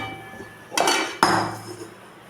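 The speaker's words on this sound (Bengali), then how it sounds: "সয়াবিনের কড়াইটা বসিয়ে দিলাম" A kadai of soybeans is set down on a home stove with two sharp metallic clanks about half a second apart, close by and loud, followed by quiet kitchen background.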